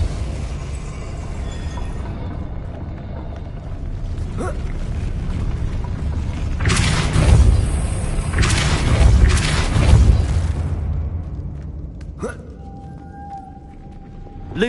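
A Depulso spell goes off in a Harry Potter video game, producing a deep, rumbling boom that swells and lingers for several seconds amid game ambience, followed by a brief sharp pop.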